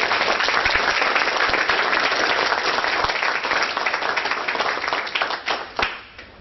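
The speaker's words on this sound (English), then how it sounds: "So please give a big round of applause." An audience at a talk breaks into sustained applause, a dense wash of clapping held for several seconds before thinning into scattered claps and fading out.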